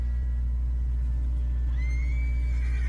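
A horse in the video game Red Dead Redemption 2 lets out a brief rising whinny late on, over a steady low game hum, with no talking.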